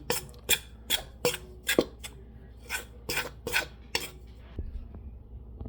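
Salt being stirred into bread dough ingredients in a bowl, a run of about a dozen quick scraping, rasping strokes in an uneven rhythm, close and fairly crisp, easing off near the end.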